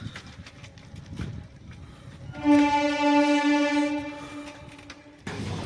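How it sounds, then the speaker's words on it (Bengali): A train passing a rail crossing near a forest, its loud sustained horn sounding over rumbling wheels, with rattling rail noise before and after. "এই ট্রেনটা যে যাচ্ছে এটা ফরেস্টের কাছাকাছি আছে এখানে ট্রেন একটু স্লোই করে যেহেতু ক্রসিং জায়গা"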